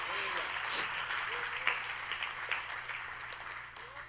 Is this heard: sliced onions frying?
no